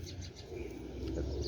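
A Sialkoti black-faced pigeon gives a short, low, soft coo close by, with no talking.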